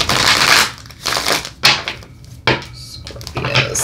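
Quick bursts of tarot cards riffling and slapping together, several rapid shuffles with short pauses between them, close and fairly loud.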